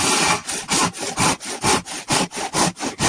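Hand panel saw rip-cutting along the grain of a wooden board, a brisk rhythmic rasp of about a dozen push-pull strokes, close and loud with no talk.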